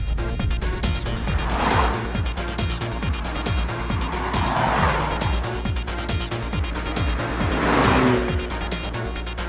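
A Nissan Skyline GT-R accelerates hard on a road, its engine roaring steadily and loudly throughout, with rising surges of revs and no talk.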